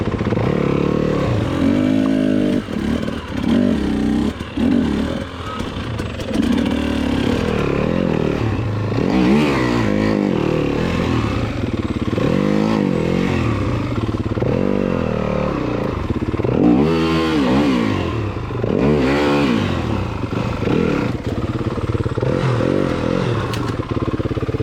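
A two-stroke Yamaha YZ dirt bike on extreme enduro terrain revs hard and repeatedly, its engine rising and falling in pitch, with clattering and scraping under it, loud and close throughout.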